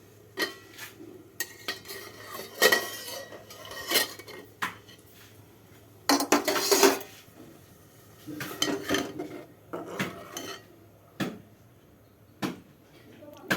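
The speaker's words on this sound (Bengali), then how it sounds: "একটা খুন্তি নিয়ে নিচ্ছি, খুন্তিটা নিয়ে একটু নাড়বো" A spatula stirs coconut and sugar in a hot pan, scraping and clattering in irregular bursts of metallic clinks against the pan, with quieter pauses between strokes.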